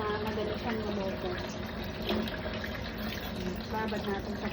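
Tap water runs steadily into a container as potatoes are set to soak, a continuous rushing splash under a person talking nearby.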